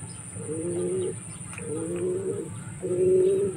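Pigeons cooing in a loft, three low rolling coos in a slow even rhythm, close and clear over a faint steady hiss.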